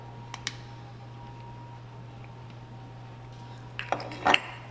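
A metal sheet tray is handled on a kitchen counter while olive oil goes on for tomato and herb focaccia, giving a few light clinks early on and then a brief cluster of louder metallic knocks and scrapes near the end.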